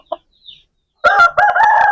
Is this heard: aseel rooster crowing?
yes